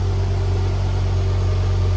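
Ford Focus ST225 engine idling steadily with a deep, constant low rumble, loud and close, no talking.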